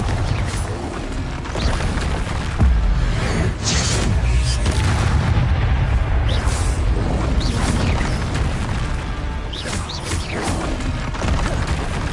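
Repeated Confringo blasting-spell explosions in Hogwarts Legacy, a dense run of loud booming blasts and crashes layered over continuous game noise, with little letup across the stretch.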